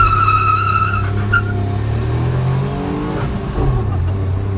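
WagonR hatchbacks, a 1.0-litre and a 1.2-litre running on petrol, rev and accelerate in a drag race, engine note rising steadily and loud with a brief tyre chirp.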